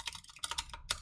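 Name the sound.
typing on a computer keyboard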